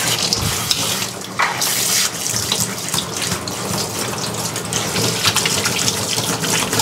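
Water runs steadily from a tap as a baby's body is rinsed during a bath, a continuous close splashing stream with no talking.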